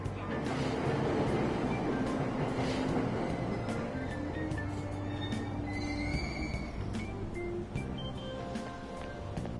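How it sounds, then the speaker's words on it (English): A train waits at a station platform in Persona 5 Royal, a dense steady rumble of rail noise with faint squeals and tones over a crowded ambience and soft background voices. "Man, I almost missed the train."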